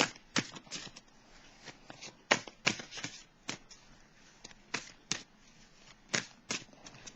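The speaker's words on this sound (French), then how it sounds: "Je vais piger une carte du message, un message de l'univers pour le signe du Bélier" Tarot cards snap and flick crisply as one is drawn from the deck, a string of sharp, close paper slaps in an uneven rhythm against a quiet room.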